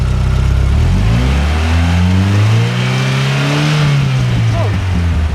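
A car engine, hooked up for an alternator test with the battery disconnected, revs up loudly and close, its pitch climbing, holding high, then sagging slightly as it settles back.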